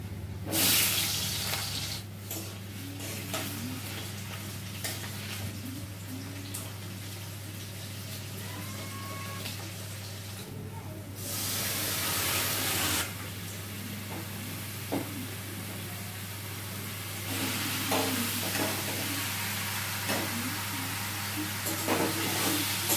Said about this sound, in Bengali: মিষ্টি কুমোরের ভাজি চলতেছে